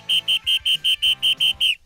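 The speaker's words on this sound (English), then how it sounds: "short bursts of the whistle" A lifeguard's whistle blown in nine short, evenly spaced sharp bursts, loud and close, signaling a rescue at a beach by the sea.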